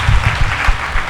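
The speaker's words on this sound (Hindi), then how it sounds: "आज जिंदा बैठे इसकी ताली बजाएंगे" A church congregation claps after a sermon by a reverend doctor, a brief, dense burst of many hands nearby without cheering.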